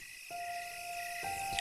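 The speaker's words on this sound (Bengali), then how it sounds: "শুধু ঝিঝি পোকার ডাক শোনা যাচ্ছে" A cartoon cricket sound effect gives a steady, thin, high chirring trill on a dark, deserted night road, continuous and fairly quiet with nothing else around it.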